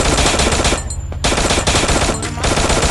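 Rapid automatic gunfire in the shooter game Free Fire, loud bursts of rattling shots with two short pauses between volleys, no voices over it.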